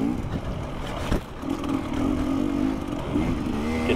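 A motorcycle engine on an enduro ride, the Wedderburn Pony Express Iron Man event, drones steadily and close, then climbs into sustained throttle as the rider gets on the gas.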